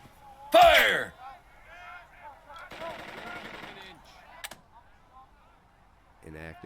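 Gunfire in the tactical war game Burden of Command: a loud sharp burst of shots, then a longer rattle of rapid fire and a later short volley, amid game voices and sound effects.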